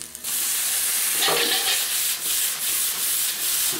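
Strips of beef sautéed with browning onion in a pan for lomo saltado, a constant loud frying sizzle broken by light scraping and stirring strokes.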